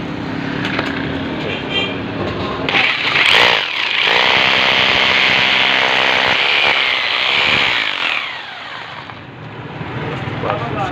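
A handheld drill machine running during a fitting job, a loud continuous whirring buzz that rises for several seconds then drops away, with a voice speaking briefly before and around it.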